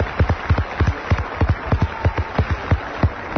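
Clapping in a radio studio, a handful of sharp, evenly paced hand claps repeating rhythmically and close by, loud and without talk over them.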